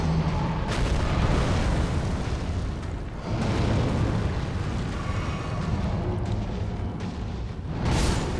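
Morgott, a boss in the Elden Ring video game, unleashes fire attacks that come through as sustained roaring blasts and booming bursts, loud and dense throughout, with a fresh eruption near the end.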